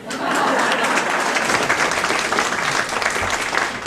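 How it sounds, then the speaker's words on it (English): Steady, dense applause from an audience at a political campaign event, filling the room loudly and evenly for several seconds with no voices over it. "You can applaud, it's okay."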